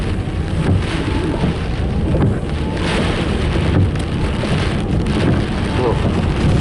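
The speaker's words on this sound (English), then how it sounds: "It's absolutely raining." Heavy spring rain pours steadily onto a car, a loud, dense drumming on the roof and glass that never lets up, with low rumbling underneath.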